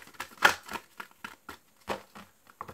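Tarot cards being shuffled by hand make a run of short, crisp riffling flicks and taps with irregular pauses between them. The sound is close and quiet and is heard alone.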